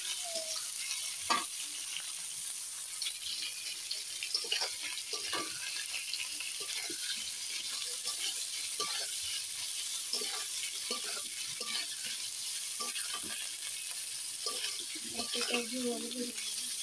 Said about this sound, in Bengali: আলুগুলো ভালো করে ভাজা হয়ে গেছে